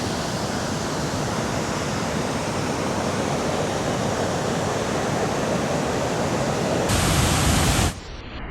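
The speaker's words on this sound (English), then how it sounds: "water from the turbine comes out underneath that right there" Water rushes out beneath the dam from the turbine at Mammoth Spring State Park, Arkansas, in a constant broad roar that holds steady, then swells briefly and drops off abruptly near the end.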